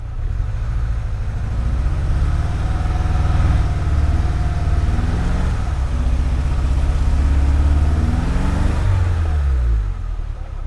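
A 2020 Lada Niva stuck in the ground, its engine droning loud and close under throttle with rising and falling revs, while people call out over it.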